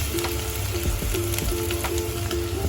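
Onions sizzle in a pan for a chholia and green pea pulao, a steady, close crackle and hiss that runs without a break and has no talking over it.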